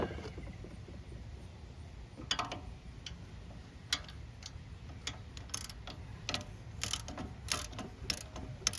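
Metallic clicks and ticks from working a bolt out of a bracket on a 2001-04 Kia Rio engine during a belt change, close and irregular, with a few sharper clacks over a low mechanical rumble, no talking.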